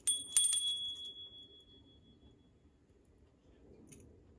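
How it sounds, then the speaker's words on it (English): A single small bell is struck near the start, giving a bright ringing tone that decays over about two seconds, followed by near silence and a faint tap. "for pile three, we have this bell."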